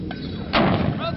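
A single loud, muffled blast of gunfire as Marines fire rounds down range, heard close with a broad thud that fades into background noise, with a voice in the clip.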